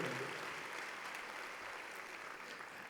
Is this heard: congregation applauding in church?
yes